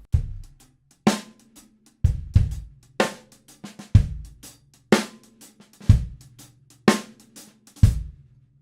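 A drum kit plays a halftime shuffle, the ride pattern moved onto the hi-hat and the snare landing on beat three: steady, evenly spaced kick and snare hits about once a second with light shuffled hi-hat strokes between, close and clean with no voice.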